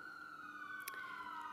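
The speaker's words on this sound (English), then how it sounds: "He's not in that ambulance," An ambulance siren sounds outside during a Sunday worship sermon, a single steady wailing tone that slowly drops in pitch as it passes, quiet and distant throughout.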